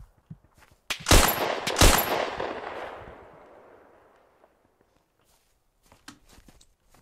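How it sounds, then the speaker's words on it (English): Two loud, sharp blasts of gunfire about a second apart, each ringing out into a long decaying echo, with faint scattered pops near the end, from Hell Let Loose. "Yeah, but I'm under heavy fire."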